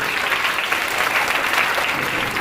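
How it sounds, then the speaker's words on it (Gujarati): Continuous clapping from a sizable crowd at a school quiz competition, steady and moderately loud throughout. "જોરદાર તાળીઓથી આપણે વધાવી દઈશું"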